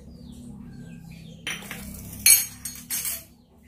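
Metal teaspoon clinking against a container while two spoonfuls of sugar are added for a vegetarian braised tofu-skin dish, a few light clinks and scrapes near the end over a low steady hum.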